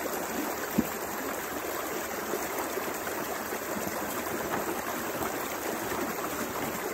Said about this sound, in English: So we'll go ahead and let some water run in that pail.